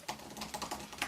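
Quick, light keystrokes on the shallow keyboard of a 2016 MacBook Pro, a close run of soft clicks at an uneven rhythm with no talking.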